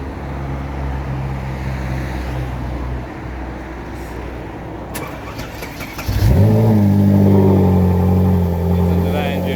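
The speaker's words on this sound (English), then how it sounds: "Listen to that engine roar." A Ferrari 458 Italia engine runs at idle, then starts up with a sharp burst into a loud, close rev that settles into a strong, steady roar, with people talking beforehand.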